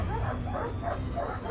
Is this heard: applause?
no